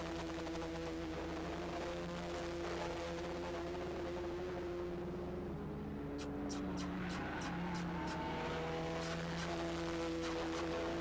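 Race car in an MRF Saloons race at the Polo Cup India, slowing to take a turn on the track: a steady engine drone with shifting pitch, a short burst of tire squeal and clicking, heard from a distance.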